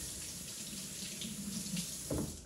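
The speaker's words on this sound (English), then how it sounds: "I'm gonna wash my hands." Kitchen tap water runs steadily while hands are washed at the sink, with a short splashing surge near the end.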